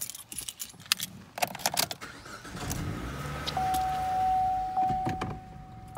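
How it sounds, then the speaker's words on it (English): Keys jangle and rattle close by, then the ignition of a Chevy Cruze is turned and the engine starts, settling into a smooth hum. A thin electronic tone sounds near the end. "if I know where I set my keys, I'll start this back up and show you."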